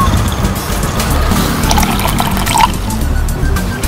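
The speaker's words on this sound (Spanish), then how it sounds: "Están tirando agua." Water is thrown down onto people on a street in a hidden-camera prank, producing a dense, loud continuous splashing and pouring wash with brief drips, with no voices over it.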